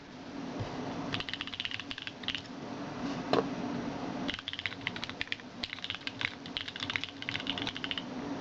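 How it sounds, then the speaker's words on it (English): Steady clicky keystrokes from a self-built mechanical computer keyboard, typed close up in a quiet bedroom, with a brief pause before bursts of fast typing resume. "And I built this keyboard. Like, listen to how nice this thing sounds."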